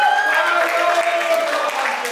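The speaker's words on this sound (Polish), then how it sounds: "Drogi brawa na zwycięzcą!" Audience applause for the winners of a dance contest: steady, moderately loud clapping from a crowd runs throughout, with some voices mixed into the noise.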